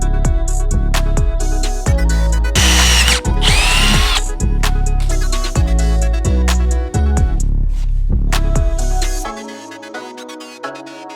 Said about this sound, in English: we're actually gonna drill a hole and use a nut and bolt right here